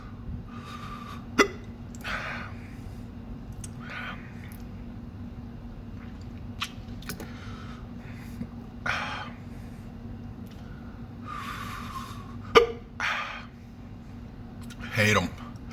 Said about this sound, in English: If I could just get rid of these hiccups, man.